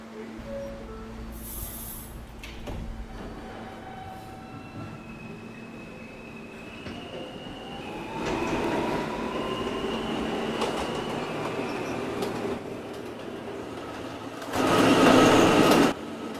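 An R160A subway train runs on the E line, rumbling steadily with squealing wheels and high tonal whines, swelling louder in the middle and peaking with a harsh burst near the end.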